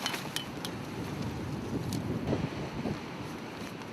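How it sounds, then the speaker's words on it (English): Strong wind blows over an exposed campsite on the Skeleton Coast on a cold night, a continuous, fairly soft rushing with small gusts and buffeting, and no voices. "Very, very windy, so it's quite noisy"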